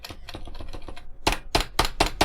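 Computer keyboard typing: clattering keystrokes come in quick bursts, lighter at first, then four heavier, louder clusters of clacks close to the mic, with no talking.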